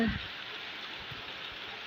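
Early-morning rain falls in a steady, soft wash of patter with no breaks. A brief voice is heard at the very start.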